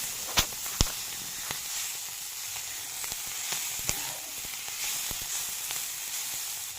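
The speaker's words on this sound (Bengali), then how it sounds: "ভালোভাবে ভাজতে থাকবো" Winter vegetables fry in a wok with soy sauce, giving a soft, even sizzle marked by sharp, sparse clicks and taps from stirring.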